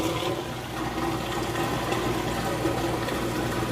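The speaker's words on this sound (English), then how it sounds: "I'm here draining the water out." A Whirlpool washing machine drains its wash water, a steady, continuous rushing and pumping of water running close by at an even level for the whole stretch, with no talking.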